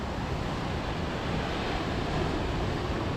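Ocean waves wash steadily against the rocky coast at Ka'ena Point, Hawaii, as a continuous broad roar mixed with wind buffeting the microphone, with no one speaking.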